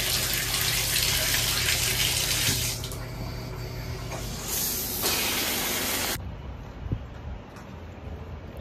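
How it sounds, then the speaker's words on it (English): A shower runs in a college dorm bathroom, a loud steady hiss of spraying water that drops and shifts in tone partway through, with no voices. "So let's hop in the shower."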